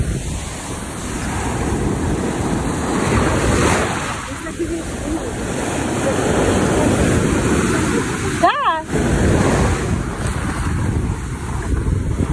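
Ocean waves wash onto a Bahamas beach in the Exumas, a loud continuous surf roar mixed with heavy wind buffeting the microphone, with a brief vocal exclamation near the end.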